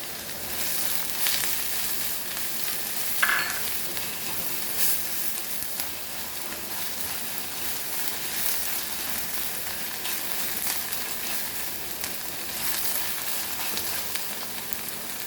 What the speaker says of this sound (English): Now we'll add our ginger garlic paste and chili.